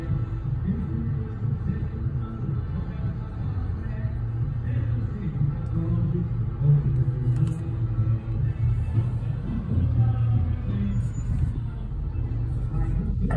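Cars idle and wait in a street in Altos blocked by a parked car, a steady low engine rumble with faint passing traffic throughout, no voices prominent.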